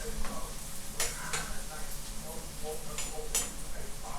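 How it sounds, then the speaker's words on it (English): Scallions, onions and tomatoes simmer in a pan with a steady soft sizzle and occasional light clicks and stirring, while a person talks over it. "So right now, I have in here just the scallions, the onions, and the tomatoes. Let it simmer down so it gets a little soft."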